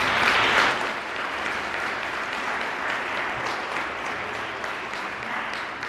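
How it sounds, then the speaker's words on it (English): A school audience applauds the DARE program graduates at an elementary academy graduation ceremony. Steady clapping fills the room, a little louder at the start, then holds even with no talk. "Now let's give all of our DARE students a round of applause."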